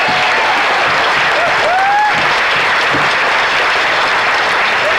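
Crowd applause at DisclosureFest, a steady wash of clapping from a gathered audience with a few whistles and cheers rising over it, loud and sustained.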